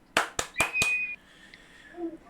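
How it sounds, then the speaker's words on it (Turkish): Four quick, sharp handclaps land close together, followed by a thin tone and a quieter tail. "Alkış. Alkışla. Bravo."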